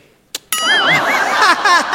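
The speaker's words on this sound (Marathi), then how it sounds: "कोण बेल वाजवतंय?" A bright, ringing chime starts suddenly after a short click, its tones wavering and warbling as they sustain for over a second.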